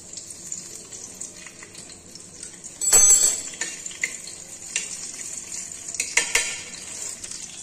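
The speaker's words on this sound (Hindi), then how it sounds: "तो ये मैं कुछ इस तरीके से छौंक रही हूँ" Chilies are tempered in hot oil, making a steady sizzle while being stirred in a pan. A sharp spattering burst comes near the middle, and fainter clinks and scrapes of utensils follow.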